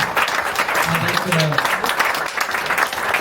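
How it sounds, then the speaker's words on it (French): A crowd claps together in a dense, steady burst of applause, with a French-speaking voice briefly audible under it. "Et je voudrais qu'on l'applaudisse"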